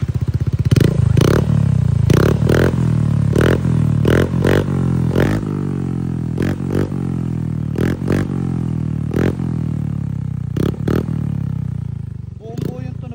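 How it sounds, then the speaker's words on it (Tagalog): A Yamaha Mio scooter fitted with a Kevin power pipe exhaust revs hard and close, a loud continuous motor roar broken by repeated sharp pops and clattering bursts as the throttle is blipped. "Grabe mga boss, sobrang solid talaga tumunog yung Kevin pipe natin."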